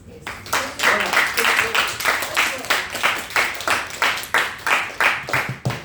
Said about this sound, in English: please can I have an applause for Basla?